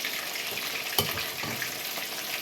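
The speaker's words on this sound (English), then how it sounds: "So I got some shrimp going on in the skillet" Shrimp fry in a skillet with a steady close sizzle and crackle, broken by a single utensil knock.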